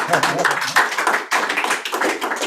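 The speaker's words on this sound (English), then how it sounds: "can we please give a big round of applause to Mr." Audience applause for Mr. Don Durston at a speaker event about the X-59 aircraft: a steady, dense wash of clapping from a crowd, fairly loud and sustained throughout.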